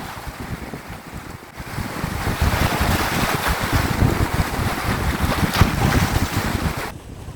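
Strong wind buffeting the microphone at the seashore in Jeju during fishing for opaleye, with a steady roaring rush and surf-like wash that swells midway and cuts off abruptly at the end, with no talking.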